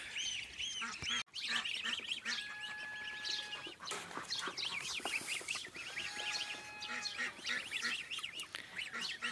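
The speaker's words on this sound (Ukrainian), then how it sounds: "І зараз будуть бігти. Лопотять. Один гусь заблудився." A flock of geese honks repeatedly, some calls close and loud, others overlapping in a noisy outdoor chorus with faint background rustling.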